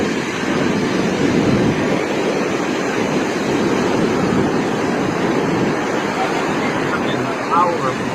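Ocean surf churns and surges in a steady, loud wash of breaking waves near a beach where a swimmer was pulled out, with a faint babble of voices in the background.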